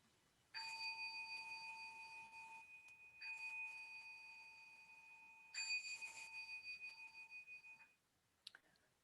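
Three closing bells struck one after another at a Zen Sunday dharma talk, each a clear ringing tone with long sustained shimmer fading slowly, in a quiet room, followed by a brief faint clink.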